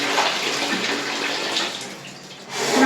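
Tap water runs steadily and close by while a young child bathes at home, a continuous broad splashing rush that dips briefly and then swells louder near the end, with no talking.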